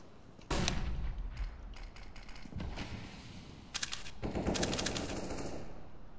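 A flashbang grenade goes off during a video game round: a sudden loud, close burst, then further sharp bursts of in-game gunfire and clatter.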